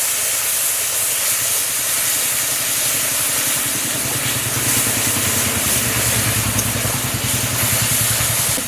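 Onion, garlic and ginger paste hitting a hot pan of oil with melted sugar, cumin and bay leaf for an egg and green jackfruit curry, giving a loud, steady, close sizzle that hisses evenly throughout.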